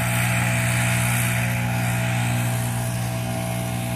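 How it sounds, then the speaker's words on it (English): A gas-powered trimmer cutting a wet bush during lawn care work, a loud, steady, close engine drone with a constant buzzing whine throughout and no talking. "Bush is getting trimmed all up."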